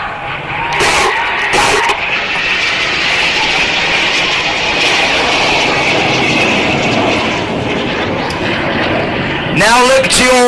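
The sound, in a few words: Red Arrows display jets flying low at an air show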